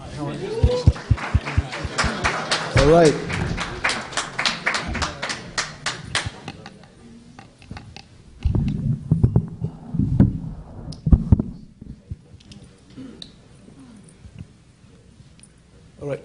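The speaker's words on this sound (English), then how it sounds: "Can we have a round of applause for our panelists?" Audience applause for panelists at a blockchain summit, a burst of clapping over the first six seconds that fades out, followed by someone speaking briefly and quieter room noise.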